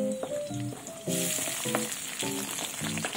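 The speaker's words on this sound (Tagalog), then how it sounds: "Lagyan natin ang kamatis" Tomatoes go into a hot pan for a sauté with garlic and chili, and a steady sizzle rises over a harmonic tonal background, close and continuous.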